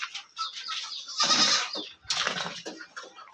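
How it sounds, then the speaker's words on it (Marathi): Goats and young goat kids bleating in a farm shed, several short nearby calls in bursts with brief gaps, fairly loud and close. "शेळ्या आता गोठा साफ करणे, शेळ्यांची पिल्ले,"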